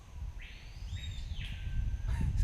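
Small, plain-coloured jungle bird, the Roxinho or Mateiro, calling with rising whistled notes in a couple of phrases, moderately near, over a low rumbling outdoor background near water.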